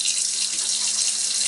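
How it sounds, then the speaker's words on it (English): Hot water runs from a tap into the bottom tray of a Sta-Wet painting palette, a steady, close, continuous hiss of filling water with no talk over it. "take the bottom of your palette here, fill it up with the real hot water."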